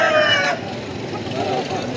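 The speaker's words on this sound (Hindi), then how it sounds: "ये मुर्गे और मुर्गियां इस तरफ भी हैं" A rooster crows briefly and loudly at a poultry market selling Aseel roosters and hens, then fades into a murmur of market bustle and faint clucking.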